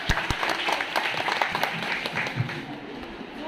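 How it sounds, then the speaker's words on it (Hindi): Audience at a social work volunteer seminar bursts into hearty applause for a participant, dense clapping filling the whole stretch at moderate loudness, fading slightly at the end. "शिवानी जी के लिए एक बार जोरदार तालियां"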